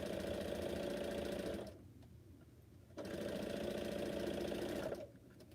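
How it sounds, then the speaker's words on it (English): A domestic sewing machine runs steadily as quilt blocks are chain pieced. Two long stitching runs are separated by a short pause, close and moderately loud with no talk. "I'm chain piecing on another set of 4 so that I can have another set of 4 started, and I'm not breaking my thread"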